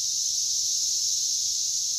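Male periodical cicadas gathered in trees call together in a chorus, a continuous, high, shimmering buzz that holds steady and fills the air without pause.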